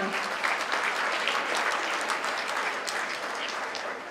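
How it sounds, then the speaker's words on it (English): Steady applause from a seated audience at a Greek culinary charity gala, dense continuous clapping that holds at an even level for several seconds, with faint voices mixed into the crowd. "a round of applause, it's coming."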